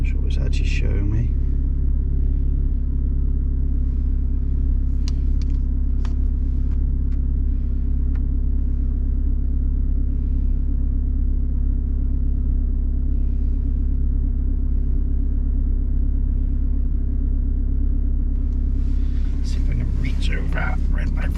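Idling engine of a Renault Clio IV RS, heard from inside the car as a steady low rumble throughout, with brief clicks and some faint speech over it.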